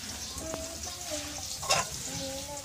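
Mixed vegetable bhaji frying in a pan, a quiet steady sizzle with small pops and one brief louder crackle, over faint background sounds.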